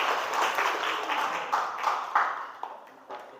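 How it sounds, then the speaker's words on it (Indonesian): A small classroom group claps for a student team: scattered, uneven hand claps at moderate distance, fairly soft, with a few sharper individual claps standing out toward the end. "kasih tepuk tangan dulu untuk kelompok 1"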